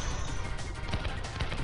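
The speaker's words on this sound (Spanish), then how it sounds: "Fuegos artificiales." Fireworks attack in Kirby 64: The Crystal Shards, a dense crackling burst of game explosions sustained for under two seconds at moderate level, with no talk.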